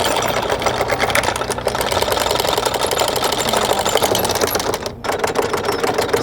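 A boat engine runs steadily and loud with a fast rhythmic clatter as throttle is increased, in the Canadian wilderness, continuous with barely any dip.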